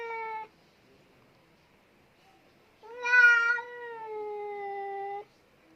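A street cat meows twice with no other sound around it: first a short call, then after a pause a long, drawn-out, wavering meow, close and clear.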